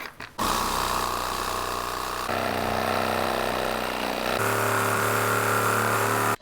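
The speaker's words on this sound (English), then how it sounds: "Got the Sawzall." A reciprocating saw cuts through a seized leaf spring bolt on a Jeep Cherokee XJ, running loud and steady with a continuous buzzing drone that shifts pitch partway through as the blade bites.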